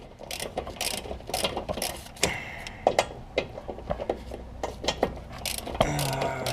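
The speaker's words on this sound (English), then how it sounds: "get your socket back in there and keep loosening it up until it pops" Socket ratchet working loose a control arm bolt on a 2008-2012 Honda Accord, giving bursts of quick metallic clicks in short irregular runs, close and fairly quiet, with no talk.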